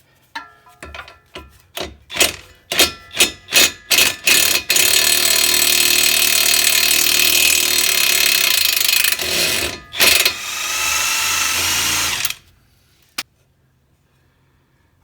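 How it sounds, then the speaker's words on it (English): An impact wrench fitted with a 13mm socket works on Ford Escape front control arm bolts: a run of about eight sharp rattling bursts, then a long continuous hammering spin, a brief pause, another long burst, and a final short hit. "So I like to put a 13mm socket on an impact."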